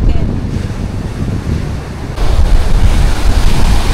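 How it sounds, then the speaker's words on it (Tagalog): Big sea waves roll onto a beach under strong wind, a steady loud roar of surf with heavy wind buffeting the microphone, swelling louder partway through. "At ngayon po pala ay malaki yung alon dito sa playa."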